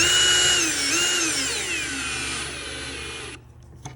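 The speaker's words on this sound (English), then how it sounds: "I'm going to toenail screws from the bottom of the shelf into the leg" Power drill driving square drive 1 5/8 screws at an angle through a timber shelf into a leg: a loud continuous whine that dips as the screw bites, then cuts off abruptly near the end.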